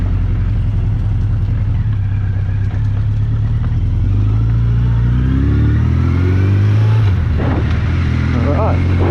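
An old car that has sat unused for years pulls away, its engine droning loud and close, rising in pitch as it gains speed, with rattles and clatter on top; a voice speaks briefly over it.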